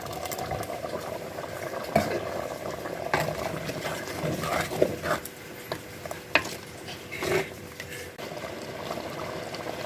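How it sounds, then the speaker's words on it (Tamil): Muttai kulambu, a Tamil egg curry with tomato and coconut paste, bubbling steadily in a pot, a continuous soft burble with occasional louder pops and gentle stirring sounds, no voices. "குழம்பு நல்லா கொதிச்சிருச்சு"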